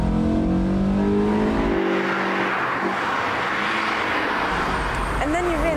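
A 2003 Honda sports car engine revs hard past 6,000 RPM into its VTEC range, a loud, close, rising engine whine that opens into a broad roaring rush, with a voice briefly heard near the end.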